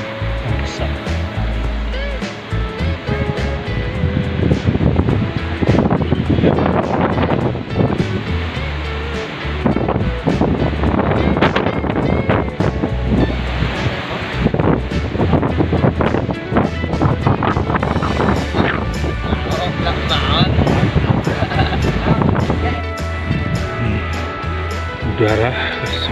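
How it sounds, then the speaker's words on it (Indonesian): Strong wind roars loudly and continuously across the slopes of Mount Kerinci, a dense gusting rush with heavy buffeting on the microphone, and a voice occasionally speaking beneath it. "angin berembus sangat keras, membuat suara seperti gemuruh"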